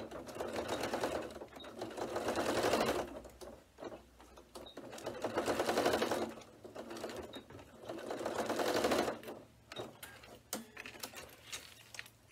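A sewing machine stitches back and forth across a bag in three loud, sustained bursts of rapid mechanical chatter, each separated by short pauses, followed by a few brief, sparse clicks.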